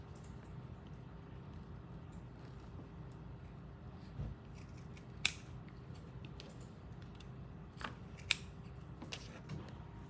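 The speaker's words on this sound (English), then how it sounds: "I'm going to just take and trim off the rest of this little tail" Scissors trim the fabric tail of a neoprene and tulle hairbow, giving a few quiet, sharp snips spread across a faint, hushed background.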